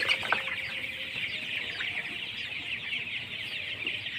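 Chickens cluck in a continuous, busy chorus close by, with soft scattered calls layered over a quiet background.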